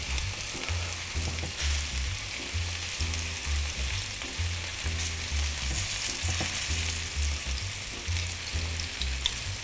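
Short ribs searing in a hot pan, giving a steady, close sizzle and crackle with faint rhythmic knocking in the background, heard alone without voices.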